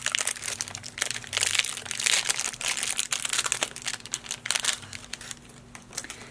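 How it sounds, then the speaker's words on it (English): Close, continuous crinkling and tearing of the plastic wrapper as a swab stick from a saliva test kit is unwrapped, with a faint steady hum underneath and no talking. "You want to unwrap the swab stick from individually wrapped package."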